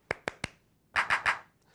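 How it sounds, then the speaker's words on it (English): A drum machine's hand clap sound plays three sharp, evenly spaced hits, then after a brief gap three fuller, more spread claps in quick succession, loud and dry with no talking. "Hand clap."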